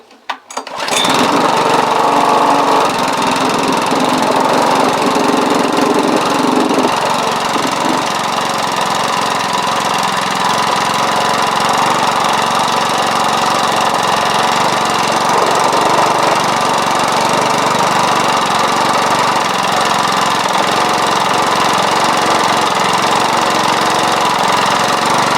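A lawn mower engine, started for the first time in three years and fitted with no blade, runs loud and steady at close range for the whole stretch, with a rough, knocking beat under its drone.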